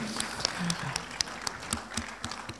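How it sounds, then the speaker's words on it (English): An awards-ceremony audience at India's Retail Champions and Retail Startup Awards claps steadily, scattered sharp hand claps over a dense crowd wash, while a voice talks over it. "please give everybody a huge round of applause once again"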